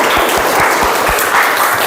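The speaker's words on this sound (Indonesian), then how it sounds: "Ya, tepuk tangan tuh semua" Schoolchildren in a classroom clap together in a dense, steady burst of applause that stays close and loud for its whole length, with no one speaking over it.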